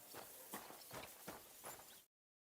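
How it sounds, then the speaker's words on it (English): A horse's hooves clip-clop at a steady walking rhythm in the medieval game Kingdom Come: Deliverance 2, moderately near and alone for about two seconds before cutting to silence. "You got out of jail yesterday, and today you've got a horse."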